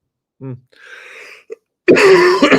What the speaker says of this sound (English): I'm very sorry about this cough.